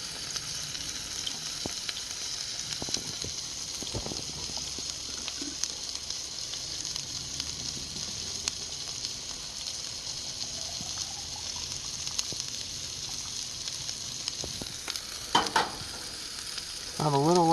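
Burgers fry and brown in a pan at an off-grid shelter, giving a steady, close sizzle throughout with a few light clinks and scrapes, and no one talking.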